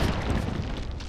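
A grenade goes off in a video game as a short, loud, close boom with a rumbling burst that stays dense for about a second, with no speech over it.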